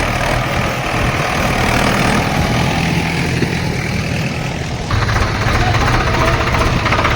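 A tractor engine idles and rumbles steadily at close range, loud and low with a knocking vibration, near tractor-trolleys hauling soil-filled bags to an embankment during river flooding in Punjab.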